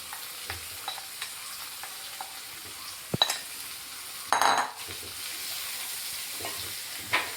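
Chopped green chillies and onions fry in a pan for a Kerala prawn roast, giving a soft, low sizzle with occasional spatula scrapes and one louder clatter near the middle.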